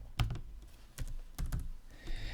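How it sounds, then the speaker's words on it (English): Quiet keystrokes on a computer keyboard come in short, uneven bursts of light clicks, close by, with no voices. "I'll just type it in here."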